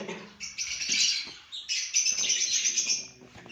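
Lovebirds in an aviary, a pair of parents with their chick, chirp in bright, busy overlapping calls, close and fairly loud, with a short pause partway through.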